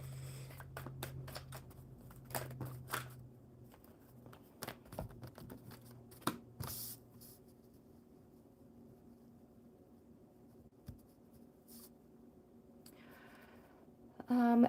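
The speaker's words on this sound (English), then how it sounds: "One more shuffle." Oracle cards being shuffled by hand on a live stream, a series of soft, papery riffles and flicks clustered in bursts, close and fairly quiet, with a faint voice and a steady hum in the background.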